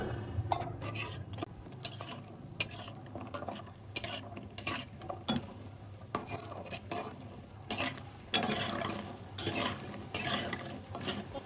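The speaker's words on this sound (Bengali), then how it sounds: "আমি বড়ি দিয়ে দিলাম চুলায়।" Kumro bori, lentil dumplings, frying in oil in a pan on a stove, a soft sizzle under repeated scraping and stirring of a utensil against the pan, with occasional metallic clinks.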